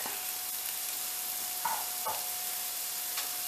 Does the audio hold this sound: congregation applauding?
no